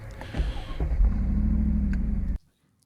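A Mercedes-McLaren SLR's supercharged engine revs up from a low rumble into a steady, loud, close roar with supercharger whine, held for about two seconds before cutting off abruptly to near silence.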